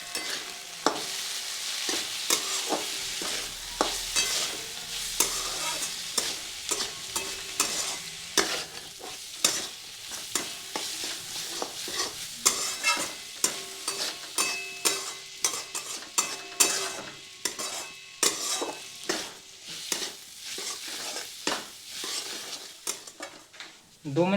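Potatoes with spices and garam masala stirred and frying in a pan: a steady sizzle broken by repeated scraping and clinking strokes of a spoon against the metal, close and fairly loud throughout, with no talking.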